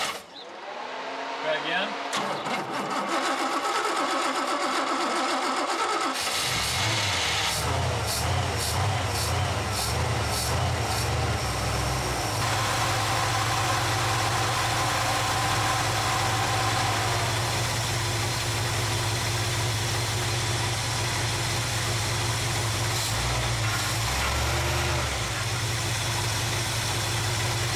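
A retired dirt racing truck's engine cranks briefly, then fires up and settles into a loud, rough, throbbing idle that runs steadily to the end, with people speaking over it at times.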